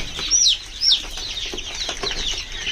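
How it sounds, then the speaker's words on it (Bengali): Seven laying hens cluck and peck while feeding on scattered feed, short close calls and scratching with a couple of sharper squawks. "এখানে আমার ডিম পাড়া মুরগি আছে টোটাল সাতটা"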